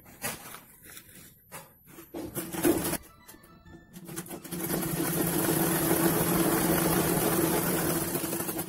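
Sewing machine stitching pieces of blouse fabric together for a bag, a steady mechanical whirring hum that starts after some brief clicks and handling noises and runs continuously to the end.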